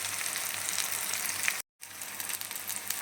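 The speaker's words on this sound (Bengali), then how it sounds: "আদা রসুনটা পেঁয়াজটা সব ভাজা হয়ে গেছে এবার আমি দিয়ে দেবো হলুদ গুঁড়ো" Onion, ginger and garlic frying in a pan give a steady, close, dense sizzle, broken by one brief silent gap before the frying sound returns.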